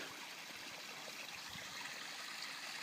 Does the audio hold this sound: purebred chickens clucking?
no